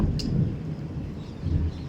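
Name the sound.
thunder rumbling from dark clouds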